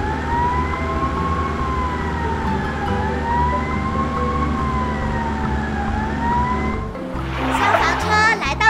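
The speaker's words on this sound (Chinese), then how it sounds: "消防车来到了池塘，开始装水吧。" A fire engine siren wails in a steady rising and falling cycle, loud and continuous, then gives way to rumbling noise near the end; a voice talks over it.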